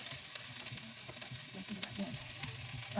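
Garlic, ginger and harder vegetables fry in a pan over low heat, giving a steady, close sizzle with small scattered pops and the scrape of stirring throughout.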